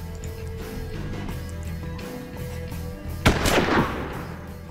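One loud gunshot from a single-shot weapon in the western tactics game Hard West bursts out above a steady bed of background music, with a short rough tail that fades within about a second.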